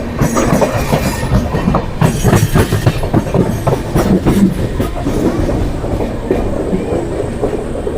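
A Dehradun Tanakpur Express train rolls along the tracks near Najibabad Junction, with a loud, steady rumble and rhythmic wheel clatter over rail joints continuing throughout.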